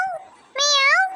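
A stray cat gives two short meows, the second longer and rising, close and clear, with little else around.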